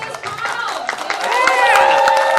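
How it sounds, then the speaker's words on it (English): Audience at a Life is Strange Comic Con 2025 panel clapping and cheering, building into a fuller burst of crowd noise with voices talking over it. "Round of applause for this"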